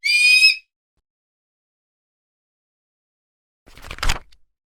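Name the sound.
hawk call sound effect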